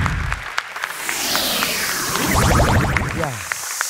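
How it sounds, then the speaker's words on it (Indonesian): Studio audience at the Hafiz Indonesia 2019 Quran recitation contest applauds contestants Salwa and Najah, a brief steady burst of clapping mixed with background music and sweeping tones. "Boleh tepuk tangan untuk Salwa dan juga Najah."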